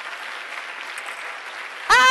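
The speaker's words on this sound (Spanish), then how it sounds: "Dele un aplauso al Señor." A congregation at a church auditorium event in 2014 applauds steadily and fairly loudly for about two seconds before a voice cuts in shouting.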